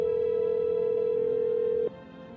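Steady single-tone phone signal from a handset in the game No, I'm Not a Human, holding loud and unbroken for nearly two seconds before cutting off abruptly into quieter background hum.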